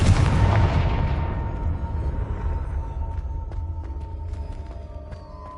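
A Confringo blasting spell goes off in Hogwarts Legacy, opening with a loud, deep boom that rolls away into a long decaying rumble, with faint scattered debris clicks afterward.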